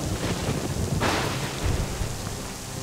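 Heavy rain pours steadily in a thunderstorm, with a brief crack of thunder near the middle and low rumbling beneath the downpour, with no voices.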